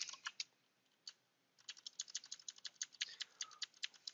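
Rapid, uneven keystrokes clatter on a computer keyboard, a short burst followed by a pause and then a steadier run of close, crisp clicks with nothing else heard.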